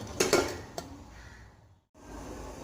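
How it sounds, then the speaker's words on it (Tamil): A metal lid is set onto a cooking pot of water brought to the boil for millet pongal, giving a few sharp metallic clanks early on, then a quieter clink before a brief silence. "ஸோ நான் மூடி வைக்கிறேன்."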